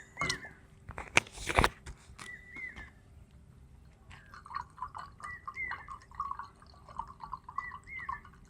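Mango juice dripping and trickling into a bottle, with a few sharp knocks at first, then a string of small watery plinks and bubbling gurgles, close and quiet.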